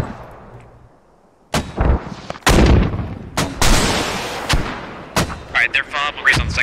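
Mortar high-explosive and smoke rounds fire in Squad, a series of loud, sharp booming reports spaced irregularly after a quiet start, with brief voice chatter between shots.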